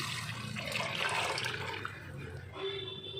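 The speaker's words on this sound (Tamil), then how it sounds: "நம்ம இப்போ கரைச்சி வச்ச புளித்தண்ணியை நம்ம இதில் ஆட் பண்ணுறோம்" Tamarind water poured into a pan of frying seer fish gravy gives a steady liquid splashing and trickling for about three seconds, moderately loud, with a faint clink near the end.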